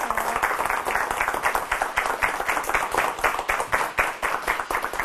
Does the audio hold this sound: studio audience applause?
yes